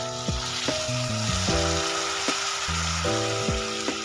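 Boneless chicken curry with capsicum sizzles in a pan as hot water goes in, the steady hiss running under a prominent stepping instrumental melody.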